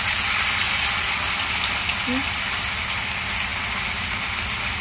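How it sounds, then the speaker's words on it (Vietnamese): Vegan egg substitute frying in hot oil in a pan, a steady broadband sizzle running the whole time with one brief faint tone near the middle. "Chúng ta sẽ cho cái phần cái trứng này, trứng chai này chúng ta chiên sơ nha các bạn."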